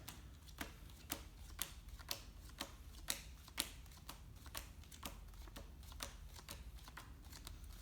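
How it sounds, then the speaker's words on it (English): Playing cards flipped one after another during practice of a card trick, giving a series of crisp, light snaps at an uneven pace over a faint steady hiss, close and quiet, with no talking. "now I'm gonna start flipping cards"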